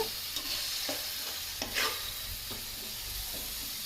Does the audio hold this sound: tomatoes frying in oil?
yes